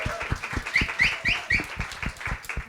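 Audience applause at a panel debate in a members' club venue, a steady patter of many hands clapping with rhythmic emphasis, plus a few high whistles or whoops cutting through.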